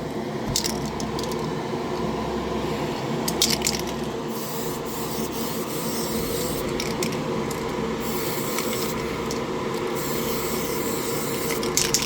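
Tamiya TS-60 Pearl Green aerosol paint sprayed onto an AMT 1957 Chevy model car body, a close, loud, steady hiss in repeated bursts with brief clicks between.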